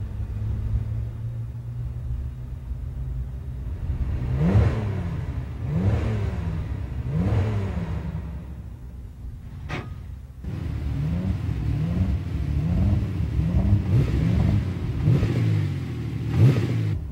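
A car engine revs repeatedly in short throttle blips, exhaust note rising and falling over a steady idle rumble, close by and fairly loud.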